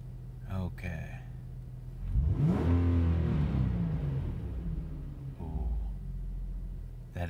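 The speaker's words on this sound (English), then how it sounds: "That is a sweet sounding V6." A 2009 Nissan 370Z Touring V6 in cold weather revs up in a rising, then falling rumbling roar after a short spoken remark, settling back toward idle.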